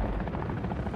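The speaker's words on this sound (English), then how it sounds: "Attack helos pressing hard." Attack helicopters in a Modern Warfare 3 campaign battle give off a steady, loud rotor drone with a thick low rumble that carries through the whole second with no pause.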